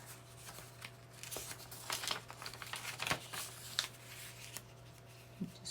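A paper junk mail envelope is folded and handled to form a pocket, soft crinkles and rustles in short irregular bursts, close but quiet over a faint steady hum.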